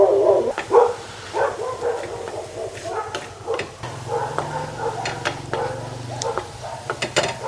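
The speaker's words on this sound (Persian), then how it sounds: "امان از این سگا." Several neighbourhood dogs bark in scattered, repeated yips and woofs at a distance, over quiet kitchen sizzling and stirring sounds.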